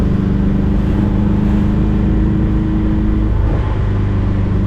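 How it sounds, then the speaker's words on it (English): A 1973 Volkswagen Thing's engine runs steadily and close, a loud, continuous low rumble with a slight shift in tone partway through. "But engine, healthy as hell."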